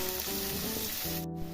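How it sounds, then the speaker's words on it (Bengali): Chopped onion frying in hot oil in a pan while cooking jackfruit curry, a close, steady crackling sizzle that fills the whole moment, with faint background tones and no talking. "পেঁয়াজটা এবার একটু ভেজে নিব।"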